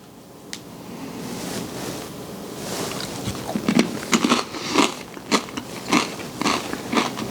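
Crunchy corn chips topped with chili being bitten and chewed, loud close crackling crunches in a quick irregular series over a soft background hiss.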